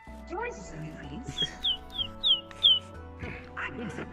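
A person imitates a bird with a run of short, high, sliding squawks in quick succession, set against a busy background of chatter and other voices.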